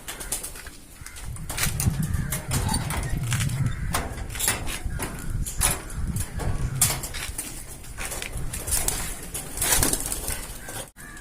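Pigeons in a cage coo softly at close range amid repeated bursts of wing flapping and scuffling, a busy, uneven rustle with no talking.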